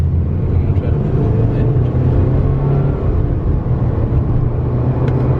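Steady, loud cabin drone from a Subaru Forester small SUV with a 2-liter, 240-horsepower engine, a continuous low engine and road rumble with no talk.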